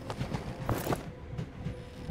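A train rolls along rails in the survival video game Voidtrain, a steady low rumble with faint clattering, fairly quiet and alone.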